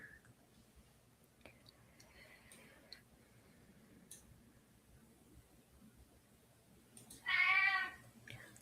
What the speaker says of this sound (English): Our cat says hello, by the way.